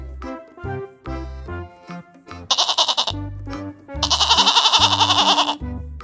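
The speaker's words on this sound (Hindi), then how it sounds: "ये है बकरी, बकरी को इंग्लिश में गोट कहते हैं" Goat bleating on a farm, two long wavering bleats alone and close, with lower-pitched tonal calls between them.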